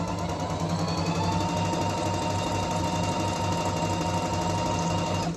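A Singer Rumina 3000 sewing machine stitches through buckram in a continuous close, loud mechanical chatter with a fast, even needle rhythm and an underlying motor hum, no voices.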